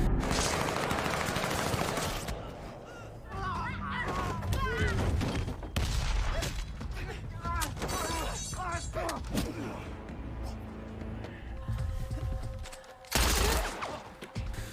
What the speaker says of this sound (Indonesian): dengan gesitnya ia membalas tembakan mereka